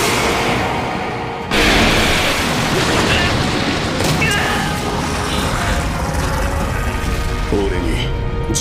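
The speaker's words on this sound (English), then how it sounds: "Explosion!" Anime magic explosion cast by Diablo of How Not to Summon a Demon Lord, a sudden loud booming blast that hits after a brief lull and roars on as a sustained, crashing rumble.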